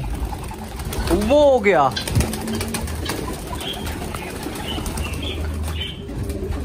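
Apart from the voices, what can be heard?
pigeons cooing and flapping wings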